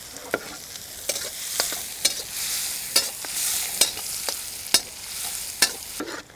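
Onion is stir-fried in a hot pan for a Chinese banquet dish, with a steady sizzle broken by regular sharp scraping strokes of a utensil about every second, loud and close with no speech.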